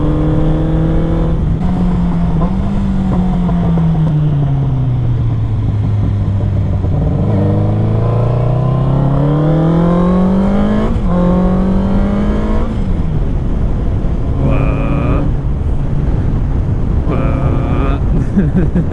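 A car's engine revs up and down under throttle, rising and falling in pitch across long sweeps, loud and close, ending with short bursts of revving.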